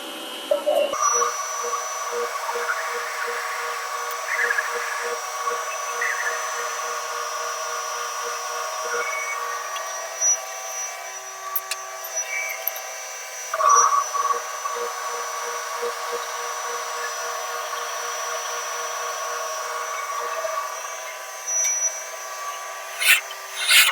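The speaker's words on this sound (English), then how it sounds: "And we're going to drill this finger." A steady mechanical whine of a drill boring finger holes in a bowling ball runs throughout, with small shifts in pitch and occasional clicks as it bites into the ball.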